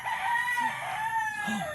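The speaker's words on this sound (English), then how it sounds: "Oh, there's a rooster." A rooster crows nearby in a drawn-out, wavering call that rises and fades, with faint clucks from other fowl underneath.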